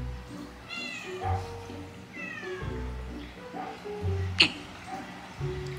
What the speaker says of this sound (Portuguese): O que que você tava miando?